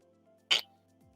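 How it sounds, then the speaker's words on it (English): One short, sharp human sneeze bursts out close to the microphone, a single loud burst lasting a fraction of a second over a quiet background. "It was like the most unexpected sneeze of my life"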